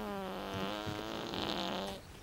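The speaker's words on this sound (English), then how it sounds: "Oh, and here's some fart sound effects." A comedy-movie fart sound effect plays as a sustained buzzing, flapping blast lasting about two seconds, loud and close, ending abruptly.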